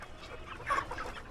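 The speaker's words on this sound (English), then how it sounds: "Lloyd Komboni checks each one of his chickens to make sure they aren't sick" Chickens cluck softly, a few quiet overlapping clucks close by with faint background noise.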